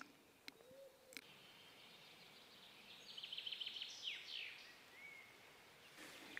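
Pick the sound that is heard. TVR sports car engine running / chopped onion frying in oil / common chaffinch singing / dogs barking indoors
common chaffinch singing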